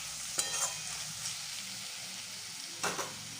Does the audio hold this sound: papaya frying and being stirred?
yes